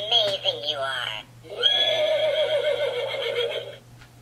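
A toy emergency unicorn plays a loud recorded horse neigh, a wavering whinny followed by a longer sustained cry, with a steady electronic hum underneath and talk close by.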